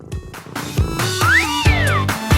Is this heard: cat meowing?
yes